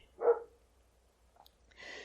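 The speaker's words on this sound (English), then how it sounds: "Your dog wants to talk to you." A small dog gives one short, fairly close bark, then a quieter higher sound follows near the end of a short, otherwise quiet stretch.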